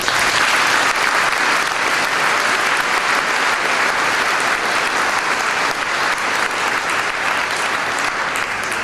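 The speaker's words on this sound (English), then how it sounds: "Let's give everyone who supported you in graduating a round of applause." Loud, continuous applause fills the hall at a 2015 graduation ceremony, an audience clapping steadily and densely for the graduates' supporters with no talk over it.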